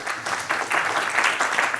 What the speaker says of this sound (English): Please join me in a round of applause for the speakers.